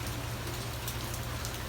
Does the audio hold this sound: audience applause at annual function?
no